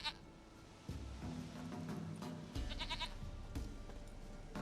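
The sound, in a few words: goat bleating, from video game The Witcher 3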